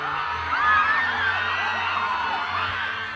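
Fans scream and cheer in a big crowd at the Kadayawan festival. The roar is loud and sustained, with high whoops and shrieks rising and falling throughout.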